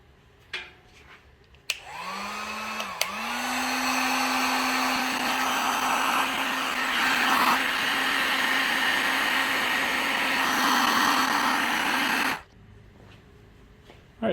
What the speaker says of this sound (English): So let's go ahead and get the heat gun running.